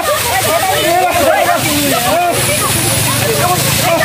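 Water gushing from a 10-inch pipe at Janaki Chowk as people splash and bathe under it, a steady loud rush and slosh filling the whole stretch, with voices talking over it.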